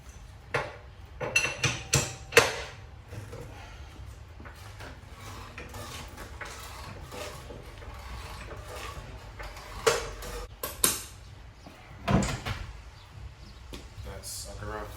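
Lug nuts are broken loose on a Dodge Hellcat widebody wheel, giving a series of sharp metallic clanks and ratcheting clicks in uneven bursts, close up, with quieter handling noises between.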